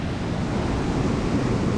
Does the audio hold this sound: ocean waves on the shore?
yes